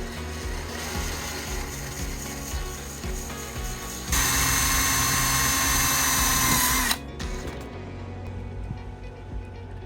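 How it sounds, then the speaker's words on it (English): A power drill fitted with a wing bit bores a pilot hole during a brake controller install, a loud steady whir of about three seconds that cuts off abruptly, surrounded by ratcheting and clicking tool handling. "We're going to pre-drill this with our wing bit."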